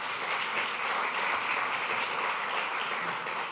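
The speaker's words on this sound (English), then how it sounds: "A nice round of applause for her." A large summit audience at a renewable energy event breaks into loud, sustained applause, a dense even wash of clapping that carries on throughout without any speech.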